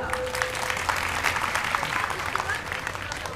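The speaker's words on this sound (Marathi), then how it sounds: "टाळ्या वाजवा." An audience at a kirtan gathering in Patur, Akola claps in a dense, steady burst of applause that lasts throughout, with a voice speaking over the clapping.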